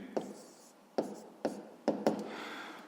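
Pen scratching out a math solution on paper for a fifth-grade exercise, about five distinct tapping strokes at irregular intervals, close and soft, with no talk over it.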